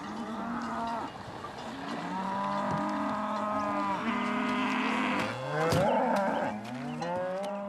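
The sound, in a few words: cattle mooing on a mountain meadow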